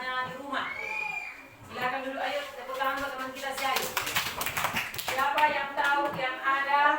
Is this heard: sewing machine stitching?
no